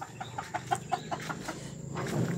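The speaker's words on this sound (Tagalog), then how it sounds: "Check natin yung ating mga manok." Backyard-coop chickens cluck over and over in a quick, uneven series, close by, with a low background murmur and no speech.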